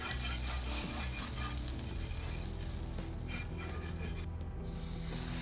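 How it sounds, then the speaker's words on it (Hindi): A blend of oils sizzles steadily on a hot tawa before paneer tikka pieces go on, giving a close, continuous frying hiss with no breaks and no voices. "तो तवा अच्छी तरह से गर्म हो गया है। तेल और ऑयल का मिक्स लगा देंगे।"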